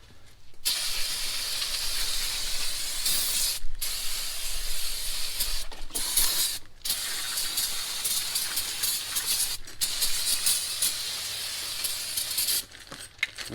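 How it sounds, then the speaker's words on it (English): Brake cleaner is sprayed onto front brake parts of a Buick Enclave during a pad change, a loud, close aerosol hiss held in long continuous bursts broken by several short pauses. "I'm going to spray this thing down with some brake clean."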